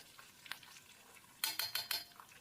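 Chana dal and urad dal tempering fries in a pan on a low flame, with a faint sizzle under a few sharp clinks and scrapes of a spoon stirring against the metal pan.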